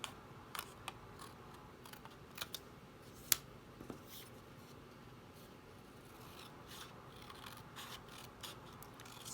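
Scissors snipping paper by hand into shapes for a butterfly-themed card, a scattering of faint, sharp clicks and cuts at irregular intervals over a quiet room background.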